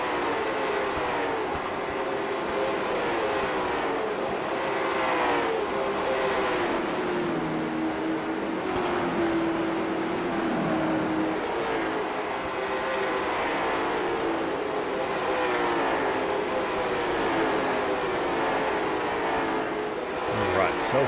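Race car engines drone continuously as the cars lap the track in a caution-free run, a dense roar rising and falling as they pass while a commentator talks over it.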